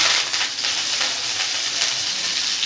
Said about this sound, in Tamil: அடுத்தது கடைசியாக கறிவேப்பிலையை நல்லா கிறிஸ்பாக வறுத்துக்கலாங்க.